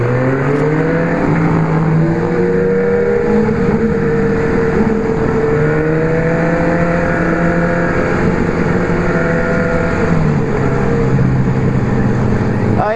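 A Kawasaki Ninja 250 motorcycle engine held at high revs at top speed, a loud, continuous whine with a steady rising and shifting pitch and constant wind roar, no talk heard.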